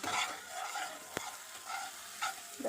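Chicken masala is stirred and fried in a pan, with close scraping sweeps of a spatula over a soft sizzle and a sharp clink in the middle, and no voices.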